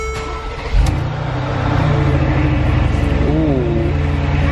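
A car engine rumbles loudly and builds in intensity, a deep throaty exhaust growl close by.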